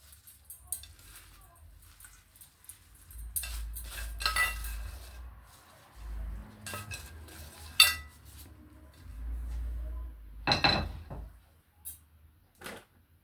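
Mint and coriander being mixed into a chicken marinade in a bowl, with close, irregular clinks of a utensil against the dish and soft squelching stirs, separated by quiet pauses.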